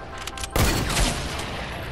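A burst of rapid SMG gunfire in Fortnite, a loud close rattle of shots lasting about a second and a half and then trailing off.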